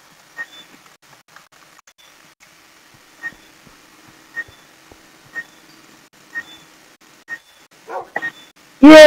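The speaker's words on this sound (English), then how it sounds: "Yeah, I got myself a doggy!" Tamed dog in Dragon Block C, a Minecraft game mod, giving a series of short, evenly spaced yips and barks, followed by a louder whimpering call near the end; otherwise quiet.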